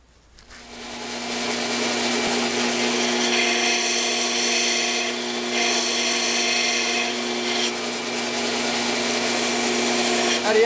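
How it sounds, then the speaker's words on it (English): A belt sander grinds a metal motorcycle bracket, a loud steady abrasive whine that spins up and holds for about ten seconds, up close and with no talking. "The rest we'll do on the belt sander."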